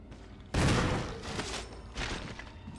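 Gunfire in the video game Resident Evil HD: a sudden loud blast followed by a decaying rumble, then two more softer shots about a second apart.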